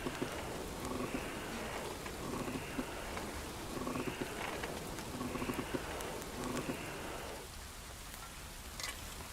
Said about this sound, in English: I wonder if the rain's cooling it off, huh, Henry?